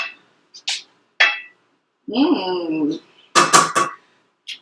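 Ingredients for a surf and turf dinner tossed around in a cooking pan, giving several short metallic scrapes and clanks in bursts, with a brief voice partway through.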